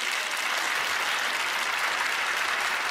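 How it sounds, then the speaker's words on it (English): A theater audience at a magic show bursts into dense, continuous applause, a bright, even wash of clapping that holds at a steady level for the whole stretch. "Applause for dealing."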